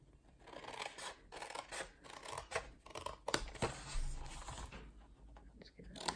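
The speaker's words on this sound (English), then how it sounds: "So I've got my scissors, I'm going to start cutting those off." Scissors snip cardboard pieces from a printed candle gift box template in a steady run of close, crisp cuts with papery rustling between them. No talking.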